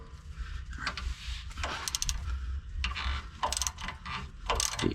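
A 17 mm ratchet wrench clicks in quick repeated bursts on a sway bar link bolt of a 1996 third-generation Toyota 4Runner, the pawl ratcheting close up in several short runs separated by brief pauses.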